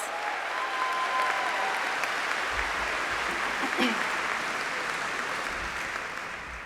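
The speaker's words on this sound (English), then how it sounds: "Let's give her another round of applause." Sustained audience applause at an Ithaca College graduate hooding commencement ceremony, a dense wash of clapping from a large crowd that holds steady and then begins to taper off at the end.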